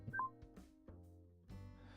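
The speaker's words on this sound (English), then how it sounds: "I'm getting a phone call." A phone's incoming-call alert plays a short series of electronic tones and beeps, quiet and clear, with pauses between them.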